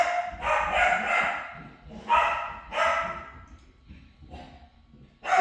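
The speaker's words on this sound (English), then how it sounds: "Those are my dogs." Several loud barks from dogs close by, coming in irregular bursts with short pauses between them.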